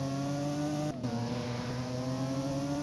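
Steady, high-pitched engine drone from a car in the Driving Empire racing game, held at high revs with a brief dip near one second, loud and continuous with no talk.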